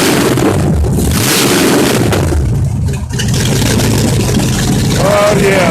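The rebuilt engine of a 1999 Dodge Dakota R/T runs loud and close, a rough, busy idle with a slight surge in the middle, and a voice speaks briefly over it.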